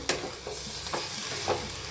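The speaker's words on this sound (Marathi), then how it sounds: "कोथांबीर पुदिना घेतला होता मी तर एकदा मिक्स करून घेऊया" A spoon stirs potato curry with coriander, mint and a little dal in a pan, making about four close, distinct scraping strokes in a steady rhythm over a soft, continuous sizzle, with no voices.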